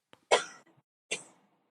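Two short, sharp coughs about a second apart, close and clear against silence.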